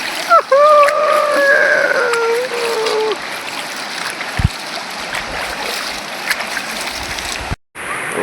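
Water splashing and a flowing stream while someone bathes in a river at a wild campsite, loud and close, with a voice briefly rising over it early on before the splashing continues alone and cuts off near the end.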